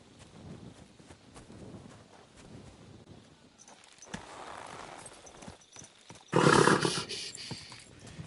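A horse in the video game Kingdom Come Deliverance 2 trotting with soft clip-clop hoofbeats, then a loud snorting burst near the end, heard alone without talk.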